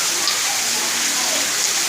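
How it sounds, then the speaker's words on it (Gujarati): Steady rain falling outdoors in Vadnagar, Gujarat, a dense even hiss of drops with no pauses, close and moderately loud. "તો ગાઈઝ વડનગર વરસાદ ચાલુ થઈ ગયો છે."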